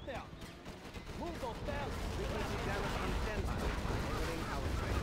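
A Gatling tank fires in the C&C Zero Hour real-time strategy game, its rapid gunfire and battle noise rolling on continuously while voices talk over it.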